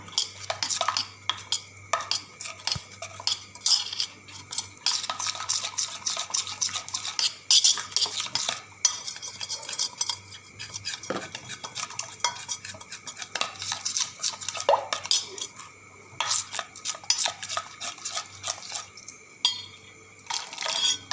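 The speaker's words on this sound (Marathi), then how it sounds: "सारे हलवून पिठाच्या घोसाळ्या पूर्ण फोडून घ्यायच्या आहेत" A spoon clinks and scrapes steadily against a bowl, stirring thick flour batter and breaking up lumps in quick repeated strokes, close and clear with no talking.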